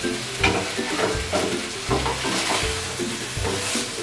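Fried potatoes and capsicum pieces are stirred in a pan, the spatula scraping in a regular rhythm of strokes roughly every half second over a continuous close sizzle.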